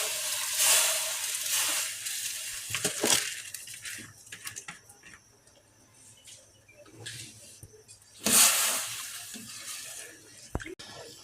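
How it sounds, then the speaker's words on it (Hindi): Rice tipped into a pot of boiling water for mutton pulao, bringing bubbling, hissing and splashing with a couple of louder surges over a steady boil. "इसी उबाल आ गया, अब मैं इसमें चावल शामिल कर दूँ"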